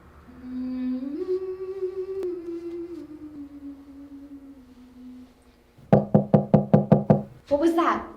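A sharp series of about seven knocks on a door comes in a quick rhythm near the end. It follows a stretch of sustained tonal background, and another burst of noise closes the moment.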